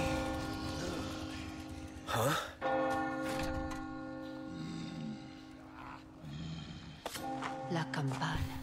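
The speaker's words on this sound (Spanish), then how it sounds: "La campana. Es hora de rezar." A church bell in the Resident Evil 4 Remake video game tolls loudly with a resonant clang, its long ringing tone lingering beneath game sounds and voices, with further strikes later.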